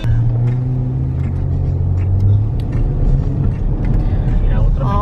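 Car driving along a road heard from inside, a loud steady engine drone and rumble of tires throughout, with passengers talking quietly over it.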